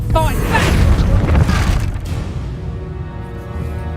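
A Bombarda spell explosion in Hogwarts Legacy, a loud deep boom with crackling debris that fades into a lingering rumble and ringing tail.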